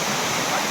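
A large waterfall at Ashok Jhar roars as a constant, dense rush of falling water, loud and unbroken throughout the short moment.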